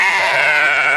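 Sheep bleat continuously inside a barn, a loud, dense chorus of overlapping cries that fills the space without a break.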